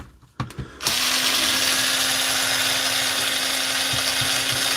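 A Dewalt power drill with a faulty chuck starts after a few short clunks and then runs continuously at a loud, steady whine with a constant pitch.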